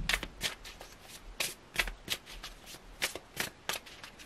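Tarot cards being shuffled and drawn by hand, a quick series of close, crisp riffling and sliding bursts in an irregular rhythm, with no talking.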